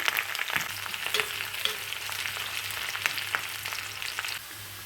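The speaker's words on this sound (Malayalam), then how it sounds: "വെളുത്തുള്ളിയും ഇഞ്ചിയും കറിവേപ്പിലയും പച്ചമുളകും ചേർത്ത് നന്നായി ഒന്ന് വഴറ്റിയെടുക്കാം" Garlic, ginger, curry leaves and green chillies sautéing in hot oil for a mango-carrot pickle, a steady close sizzle with scattered scraping stirs, with no talking.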